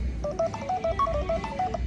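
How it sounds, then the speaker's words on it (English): A phone rings during an interview at a Beatles fan festival, a rapid melodic electronic ringtone repeating close by over a low background rumble. "Phone is ringing, folks."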